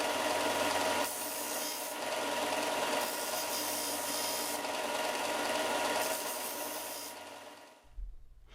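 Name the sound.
sanding nubs off a wooden twig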